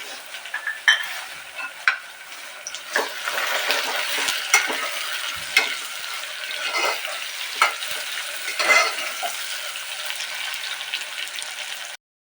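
Chopped green chillies fry in hot oil in a pan for khara pongal, a steady sizzle broken by repeated clinks and scrapes of a spoon stirring, close and alone without talk.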